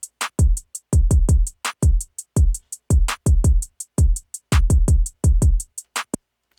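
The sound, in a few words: beat with basic two-step hi-hats added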